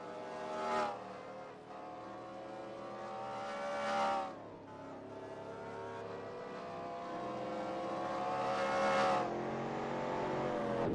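Stock cars in a Winston Cup Series racing video game at Texas roar past in repeated pass-bys, engines swelling and fading about every few seconds before a sustained rising drone.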